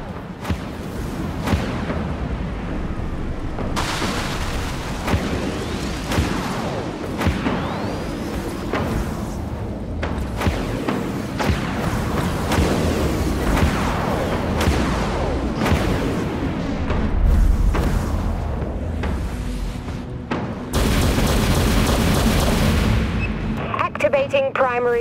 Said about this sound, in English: Broadside batteries fire.